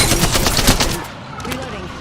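Rapid automatic gunfire in a battle royale video game, loud and close, a dense burst through the first second that thins into scattered shots with a brief voice underneath.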